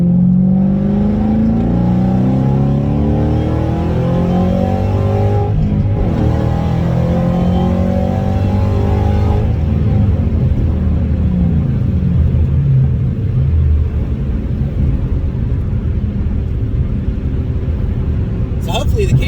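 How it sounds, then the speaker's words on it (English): A Ford GT500 with a supercharger, fitted with a JLT intake and resonator delete, accelerates hard through second into third. Its engine roars loudly and rises in pitch, then fades after the lift-off while someone talks over it. "It doesn't drone that bad, but it still kind of takes away the blower whine."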